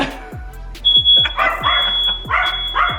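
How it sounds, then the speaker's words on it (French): A shrill, steady kitchen alarm tone blares continuously after croissants go in the oven, while a dog barks repeatedly and loudly nearby, the barks coming in a rough rhythm. "C'est l'alarme!"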